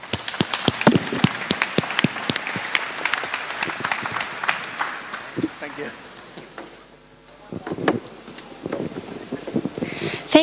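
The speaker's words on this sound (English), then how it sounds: "please join me in a round of applause for them" Audience applause for a panel of speakers at an internet and IPv6 event, a crisp room-filling patter of many hands with a brief lull and voices mixed in before a final burst.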